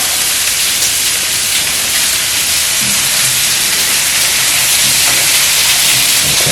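Potatoes hitting a hot Blackstone griddle give a loud, steady broadband sizzle and hiss that runs unbroken and close-up, with no talking over it.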